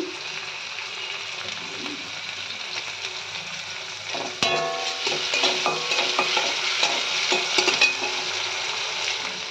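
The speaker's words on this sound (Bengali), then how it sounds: "পেঁয়াজ কুচি দিয়ে দিচ্ছি, ভালো করে দিয়ে দিচ্ছি, ভালো করে লাল করে ভাজবো।" Chopped onions fry in a pan for a Bengali fish vorta, giving a steady close sizzle; partway through, louder stirring and scraping of a utensil against the pan joins the hiss.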